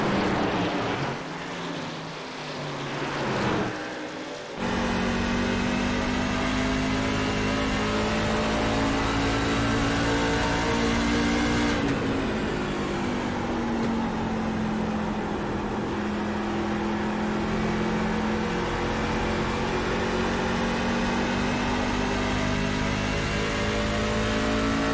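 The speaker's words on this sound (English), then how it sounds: "just listen to that engine purr as they're trying to see what other battles may be going on around the" A racing truck engine in a video game truck series race drones steadily and loudly on track, with a sharp shift in pitch partway through and a long sustained whine afterward, no voices.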